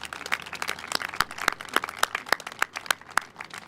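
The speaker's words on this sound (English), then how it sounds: "Let's please give them all a round of applause" An audience at a community bridge event applauds, giving a sparse, rhythmic run of individual claps with sharp separated strikes, moderately loud and without talk.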